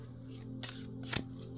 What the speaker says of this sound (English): the round cards are a bit different there. A bit different to shuffle